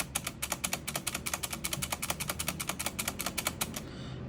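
Rapid clicking of Razer Green mechanical keyboard switches, a steady run of sharp, bright key clicks close up, alone with no talk.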